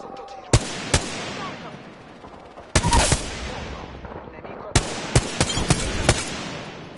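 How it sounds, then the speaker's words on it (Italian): Gunfire in a PS5 shooter, Corsa al Diamante mode: sharp broadband shots in scattered clusters, single cracks and quick bursts separated by pauses, loud and close over a low game ambience. "Ah, mi hanno sparato. Sono sotto tiro."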